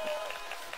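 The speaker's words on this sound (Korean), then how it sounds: "박수 좀 쳐보세요." A crowd applauding, steady dense clapping through the whole short moment, moderately loud and close.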